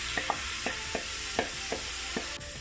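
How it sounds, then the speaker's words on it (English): Ground beef for Jamaican beef patty filling sizzles steadily in a pan while a utensil scrapes and taps against it in short, irregular strokes. "And now I'm gonna scrape my ground beef."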